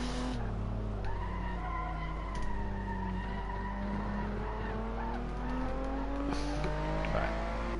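A car in the racing game Assetto Corsa slides through rally driving, its tires squealing in long, wavering tones over a constant engine drone, loud and close throughout.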